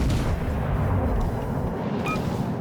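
Battleship main guns firing in World of Warships Legends, a loud heavy boom with a rolling, rumbling tail that fills the clip, followed by a short high electronic game tone near the end.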